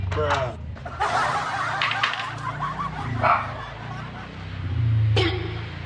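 A dog gives a few yips and whimpers close by, mixed with people talking in the background.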